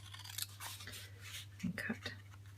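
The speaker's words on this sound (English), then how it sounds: "I'm going to take my little scissors and I'm going to round it here" Small craft scissors snip paper while rounding the corner of a whale bookmark, brief faint cuts over a low steady hum, with a voice speaking softly nearby.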